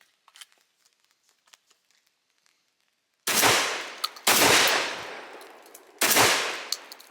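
A Vepr 12 shotgun fires outdoors, heard as three loud, sharp bursts of rapid shots spaced a second or two apart, each followed by a short ringing tail, after a stretch of faint clicks and handling.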